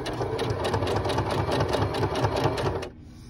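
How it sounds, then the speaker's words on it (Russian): A sewing machine runs steadily while stitching the lining of a denim jeans pocket, a close, rapid rhythmic chatter of needle strokes lasting about three seconds before stopping abruptly, leaving a low hum. "Выворачиваю мешковину и буду строчить с внутренней стороны."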